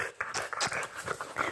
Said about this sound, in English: I just wanted to show my little puppies